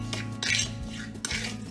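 Vegetable cutlet mixture being mixed in a bowl with a spoon, two bursts of clinking and scraping of metal against the bowl, close and fairly loud, without talk.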